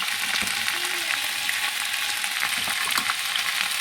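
Potatoes frying in oil with salt and turmeric, a loud, dense, continuous sizzle close up with faint stirring taps, no voices.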